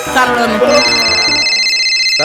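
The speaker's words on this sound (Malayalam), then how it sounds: "ഫോൺ അടിക്കുന്നു, ബെല്ലടിക്കുന്നു സാറിന്റെ ഫോൺ." A telephone bell rings with a steady, high electronic tone lasting over a second, following a brief burst of lower voiced sound.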